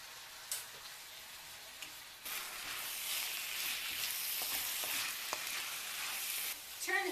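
Fettuccine with king oyster mushrooms, garlic and white wine sizzles in a pan over high heat, a soft hiss that swells after a couple of seconds and holds steady, with a few light utensil clicks and no voices.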